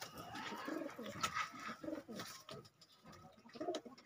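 Several pigeons, including golden and red-patterned birds, coo softly in a breeding setup, with low, throaty coos repeating in short phrases at close range and a faint background hiss.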